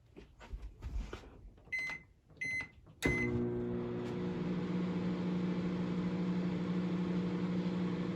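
Microwave oven warming pizza pockets: a few button beeps, a clunk as it starts, then a steady low mechanical hum running on unbroken, close by, with no talking.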